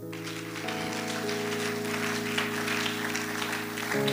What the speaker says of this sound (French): Acclame encore pour Jésus